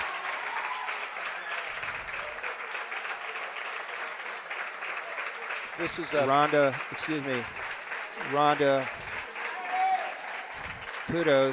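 A crowd applauds after a women's singles racquetball final at the Pan Am Championships, with sustained clapping throughout as a commentator talks over it in the second half.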